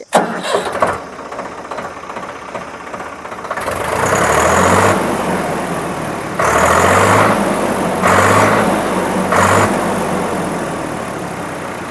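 A Swraj 855 FE 4WD tractor diesel engine starts with a burst, then idles loudly and steadily, with several brief surges of revving.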